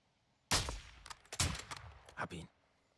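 A burst of several loud, sharp gunshots in quick succession, followed by a couple more cracks and echoing tails, close and punchy, in the video game Call of Duty: Modern Warfare II.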